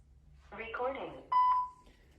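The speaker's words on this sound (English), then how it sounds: "You may leave me a message at the beep." A voicemail answering machine sounds a single electronic beep, a steady tone lasting about half a second that follows a moment of a brief garbled recorded voice.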